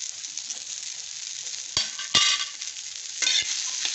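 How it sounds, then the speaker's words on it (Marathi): Ginger, garlic and green chili sauté in hot oil with a constant bright sizzle. A few sharp spoon scrapes and stirs punctuate it, close and fairly loud. "ते पण तेलात असं छान परतून घ्यायचं। आलं, लसूण, मिरची"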